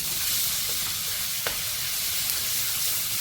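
A tablespoon of garlic sautés in about four tablespoons of hot oil in a wok, making a loud, continuous hiss and sizzle up close, broken only by a faint tap or two of stirring.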